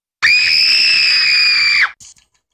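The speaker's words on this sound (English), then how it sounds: "Stop screaming at me, TV." A loud, shrill scream from a TV in the mobile horror video game Eyes, one sustained high-pitched shriek lasting over a second and a half that cuts off abruptly, followed by brief faint noises.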